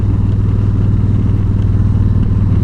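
A Yamaha V Star 1300 motorcycle rumbles steadily while cruising on a rural back road, the low engine drone loud and continuous with wind noise.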